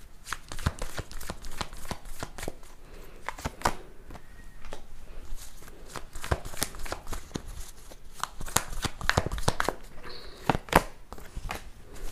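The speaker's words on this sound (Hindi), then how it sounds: "मैं पहले काम करती हूँ, कार्ड्स निकाल लेती हूँ" Tarot cards being shuffled and drawn, a rapid run of crisp papery riffles and flicks repeating throughout, close and clear with no talking.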